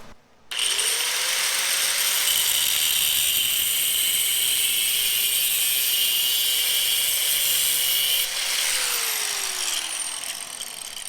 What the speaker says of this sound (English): just loosen the control arm bolts, control arm pivot bolts